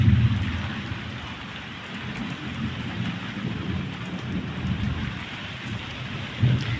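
Heavy rain pours steadily onto surfaces outdoors, a dense close hiss, while deep rumbles of thunder swell at the start and again near the end; no one speaks.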